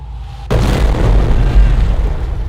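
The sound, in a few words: mortar half-track incendiary barrage explosions in Company of Heroes video game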